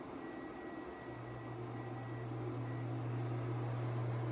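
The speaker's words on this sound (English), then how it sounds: "That is basically the pan working with the cooktop to make the induction happen" Duxtop portable induction cooktop heating a pan, giving a steady low electrical hum with a faint whine above it that grows slightly louder. Quiet and continuous, with no talking.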